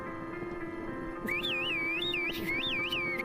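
Someone whistles a wavering, looping tune over a steady low hum, the notes bending up and down in quick repeated phrases.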